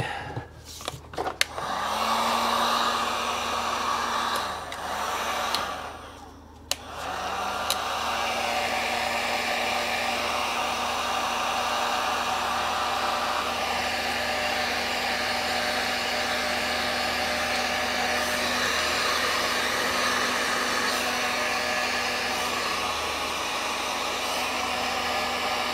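A heat gun blows steadily on a clamp of a Seadoo 951 DI engine, a constant whirring airflow hum that runs for the whole span after a few brief clatters at the start.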